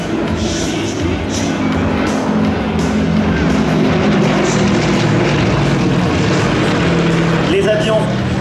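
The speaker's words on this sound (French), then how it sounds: "les yaks sont donc équipés de moteurs 9 cylindres en étoile" Yak 52 and Yak 18T aerobatic planes with nine-cylinder Vedeneyev M14P radial engines of 400 horsepower flying at an air show, a loud steady propeller drone filling the whole stretch.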